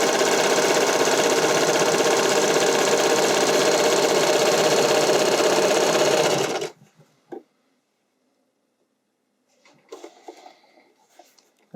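A serger hums loud and steady at high speed for about six seconds, stitching a lettuce edge hem on spandex for a figure skating dress, then stops abruptly, followed by a few faint handling sounds.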